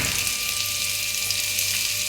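Sliced shallots and curry leaves fry in hot oil in a kadai, giving a loud, dense, steady sizzle with a faint hum underneath and no talking.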